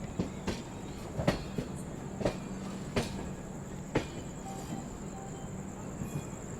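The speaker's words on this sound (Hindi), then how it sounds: "रेवांचल एक्सप्रेस फुल प्रायोरिटी के साथ इस रूट में पूरे हक से बढ़ते हुए" The Rewanchal Express passenger train runs along the track, its wheels clicking in a regular clickety-clack rhythm over rail joints, with a steady rolling rumble and a faint high whine, heard from on board.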